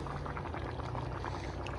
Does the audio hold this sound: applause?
no